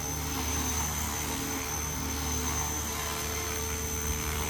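A small GPS-stabilised hobby helicopter with a direct-drive electric tail rotor motor hovers nearby, giving a steady, continuous whirring drone with a high-pitched whine running throughout and no breaks, no voices.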